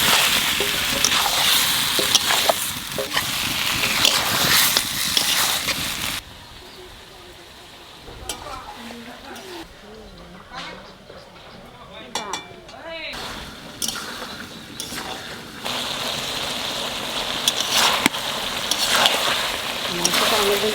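Desi chicken meat frying and sizzling in a pan with oil and ground bay leaf, a steady loud crackle that drops quieter midway with stirring clinks, then returns strong.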